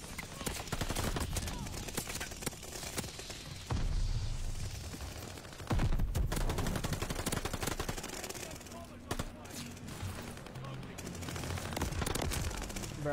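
Rapid video game gunfire, automatic bursts and single shots, keeps going loud and close with hits landing, while a voice talks over parts of it.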